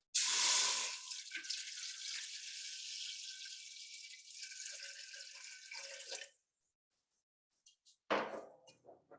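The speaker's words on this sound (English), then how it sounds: "In a pot, I'll add some water." Water pours steadily into a cooking pot in a home kitchen for about six seconds, a bright rushing splash that eases off, followed by a short pause and a few brief clanks of the pot.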